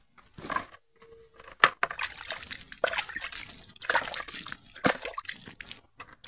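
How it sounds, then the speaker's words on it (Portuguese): Water poured from above onto a freshly planted bed of chives in a garden, an uneven splashing trickle in bursts and pauses, fairly close and moderately quiet. "Vou jogar mais essa água aqui em cima"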